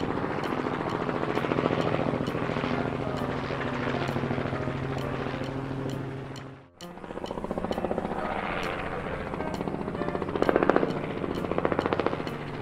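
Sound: agricultural helicopter

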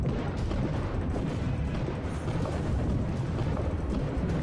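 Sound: nacelle gun firing in the video game Diluvion

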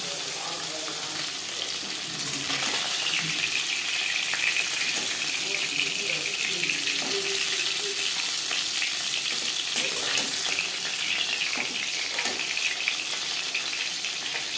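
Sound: bata fish frying in oil, turned over

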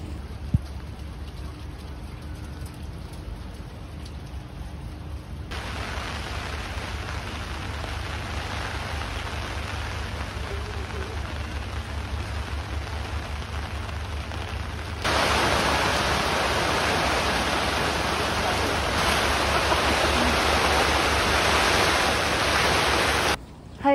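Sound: heavy rain pouring

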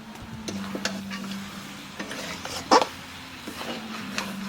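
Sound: butter added to cooking mutton curry

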